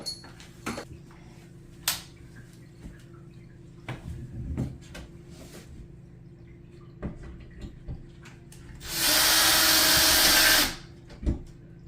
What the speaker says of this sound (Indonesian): Oke, kita drill di sini.